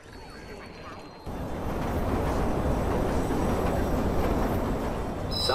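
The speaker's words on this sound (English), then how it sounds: "Southbound train arriving shortly." Subway train arriving in Watch Dogs in Chicago, a loud sustained rumble and rattle of wheels on rails that surges in abruptly and holds steady, with a faint squeal near the end.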